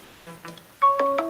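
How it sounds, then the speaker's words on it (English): An incoming call sets off a phone ringtone, a brief electronic melody of bright rising tones that is loud and close. "I'm getting a phone call."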